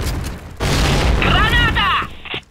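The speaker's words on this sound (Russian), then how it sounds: "Граната!" A grenade blast in the video game Point Blank lands as a loud, broad boom that rolls on for more than a second. It is followed by a bright warbling electronic tone and a short thump at the end.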